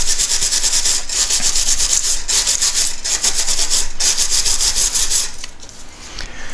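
Steady back-and-forth scrubbing of hand-laid model railroad track ties on a new turnout, removing leftover flux and dirt, loud and close with a rhythmic rasp and brief pauses, no voices.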